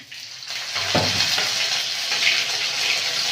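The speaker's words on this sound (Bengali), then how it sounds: "তেজপাতাটা ভাজা ভাজা হয়ে গেছে, এবারে আদা বাটা দিয়ে দেবো।" Ginger paste goes into a pan of bay leaf frying in oil, setting off a loud, close, broad sizzle that surges at the moment of adding and then keeps up a steady hiss.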